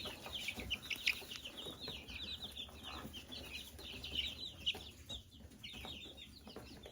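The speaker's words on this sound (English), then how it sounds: "this is our rooster" A rooster clucking and chattering nearby in a muddy farmyard, a steady run of short calls with other fowl sounds mixed in, no talking.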